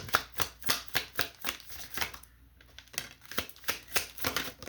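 A deck of cards shuffled by hand at close range, a run of quick papery riffle flicks in a steady rhythm, pausing briefly midway, then resuming as a second shuffle.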